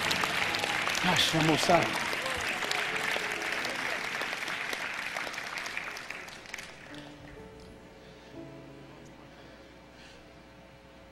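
Church congregation clapping during a sermon, loud applause at first that gradually fades, with a speaking voice over it.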